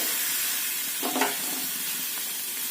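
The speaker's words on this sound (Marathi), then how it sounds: "तवा तापल्यानंतर त्यामध्ये या धुवून घेतलेल्या मुळ्याच्या शेंगा घालून घ्यायचं" Washed radish seed pods stirred in a hot iron griddle pan, a steady soft sizzle with a brief louder scrape of stirring near the middle, close and alone with no voices.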